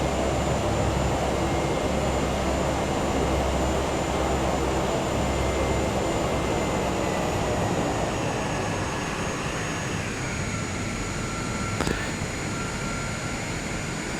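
Steady, loud broadband roar of a Cessna 208B aircraft engine fills the whole stretch without letup, with a faint whine running through it.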